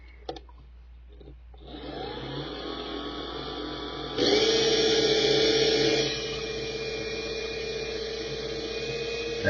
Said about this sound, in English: And we will put it on a dyno.